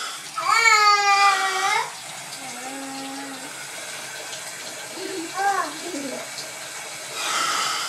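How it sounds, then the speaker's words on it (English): Young girls splash and play with water in a bathtub, making a soft, constant watery wash, while high-pitched squeals and babbling voices rise over it. "No, girls. You can't play with the water like that."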